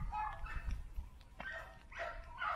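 Phoenix, a one-year-old young dog, gives a few short barks and yips between high whimpers. The sounds are quiet and fairly close, with no one talking.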